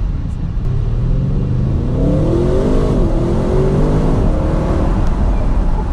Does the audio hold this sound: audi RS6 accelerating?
yes